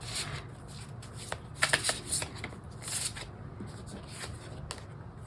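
A roughly 20-year-old standard learning tarot deck being shuffled by hand, close and fairly quiet riffling and slapping of cards in quick bursts, with a faint background hiss.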